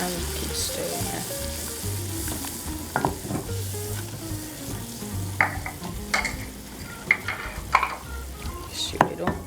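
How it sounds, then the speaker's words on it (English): Flour is stirred into melted butter in a pot for a Norwegian fish soup roux, with a soft continuous sizzle, scattered utensil scrapes and clicks against the pot, and a low hum underneath, no talking. "So the butter is melted, and I can add the flour. I will keep stirring it."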